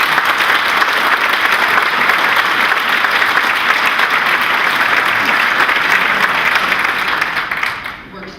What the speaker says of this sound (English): let's just give them a little round of applause